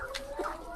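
Layer hens in cages on a poultry farm give a few short, close clucks in quick succession over a steady background hum.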